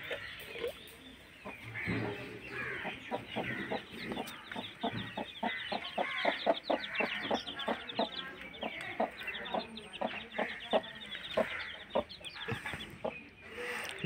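A hen fed small pieces of jaggery clucks steadily and repeatedly at close range, a busy rhythm of short clucks running throughout with no talk.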